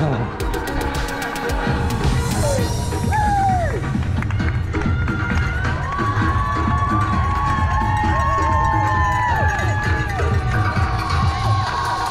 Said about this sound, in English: A big cheer to get you going.